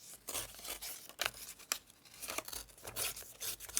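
Vintage map paper is torn by hand along a straight edge in a series of close, crisp rips and crinkles, coming in short bursts with brief pauses between them.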